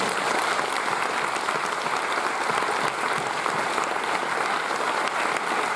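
A festival crowd at the Étrange Festival opening night at the Forum des images claps steadily for the venue's staff, a loud, full, unbroken wash of applause with no speech.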